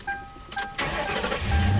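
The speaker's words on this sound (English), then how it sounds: "Start the car." A police interceptor project car's engine cranks and catches after a couple of short electronic chime tones, then settles into a steady low idle rumble that grows slightly louder, close by with no talking.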